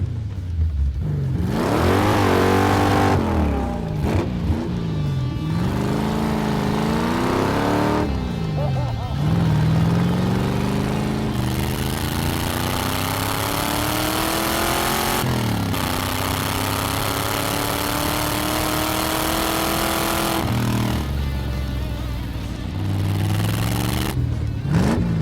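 A go-kart with a Corvette engine from an '85 C4 Corvette accelerating on a warm-up lap, its engine revving up and down through repeated loud climbing pulls and gear changes, with someone talking over parts of it.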